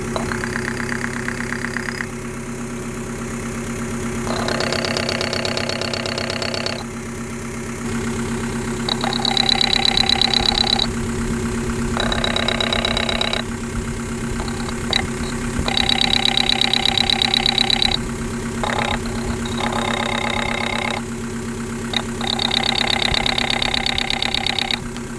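Idling 1.9L M-TDI diesel engine with a steady, close rumble and a repeating metallic knock from a faulty injector, rising and falling in bursts of louder clatter throughout.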